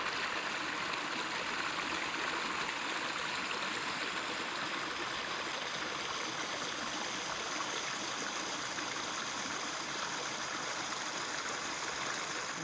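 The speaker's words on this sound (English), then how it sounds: "Isn't that a pretty creek?" A mountain creek in Arizona's Superstition Wilderness flows in a steady, full rush of water, close and continuous throughout with no voices over it.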